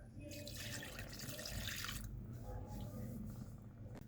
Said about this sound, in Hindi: अब हम इसमें डालेंगे 1 कप दूध।